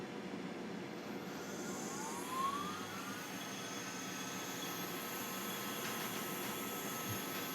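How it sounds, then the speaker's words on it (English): A FoxAlien 1.5kW CNC spindle runs at full speed, giving a steady high-pitched whine over a low hum, fairly quiet and continuous, with a brief rising tone as it settles. "that has kicked on the spindle. And that is at full speed."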